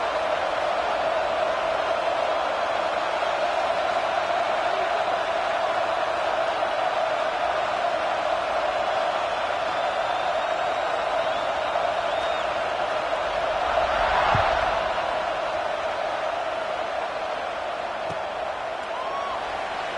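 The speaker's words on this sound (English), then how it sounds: "this crowd now ready to get behind them" A football stadium crowd at a Canadian football game makes a steady, broad roar, a dense wash of many voices that holds level throughout with a slight swell midway.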